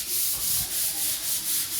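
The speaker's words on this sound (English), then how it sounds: "So he's sanding all the way from the other corner," Machine sanding of a bedroom floor makes a loud, continuous abrasive rasp with a regular pulsing sweep, roughly four swells per second, close by and with no voices.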